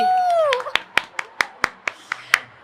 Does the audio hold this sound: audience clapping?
yes